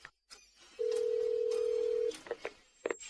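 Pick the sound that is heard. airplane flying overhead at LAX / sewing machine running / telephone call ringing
telephone call ringing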